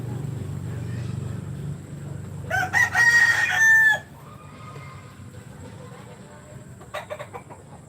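A rooster crows loudly once at close range, a rising then held call, with lower room noise before it and a few faint clucks afterward.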